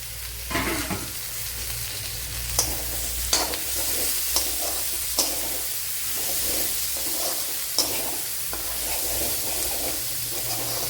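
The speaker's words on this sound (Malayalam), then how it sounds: "ഒരു 3 സവാള, മീഡിയം സൈസ് 3 സവാള അരിഞ്ഞതാണ്, അത് ഇട്ട് കൊടുക്കുക." Three medium chopped onions frying in oil in a pan for Kerala fish biryani, a steady sizzle running throughout with a few sharp clicks and scrapes as they are stirred.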